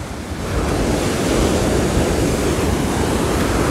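Ocean waves breaking on a beach in Pernambuco, Brazil, make a steady, loud, full roar of surf with wind noise on the microphone and no voices.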